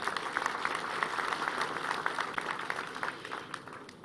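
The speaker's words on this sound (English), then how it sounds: "Can we give her a clap?" Audience at a university graduation ceremony clapping steadily, a dense, moderately loud round of applause that holds throughout and thins slightly at the end.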